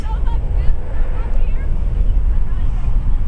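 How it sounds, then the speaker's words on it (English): Steady wind buffets the microphone at a hilltop park in Mount Vernon, Ohio, a low rumbling roar that fills the whole stretch without letup. "Oh, it's quite windy up here too."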